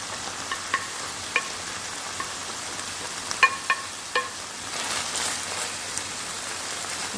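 Tomatoes, peppers and scallion frying in a pan for Jamaican ackee and saltfish, a steady hissing sizzle with a few sharp utensil clinks against the pan, close, no talking.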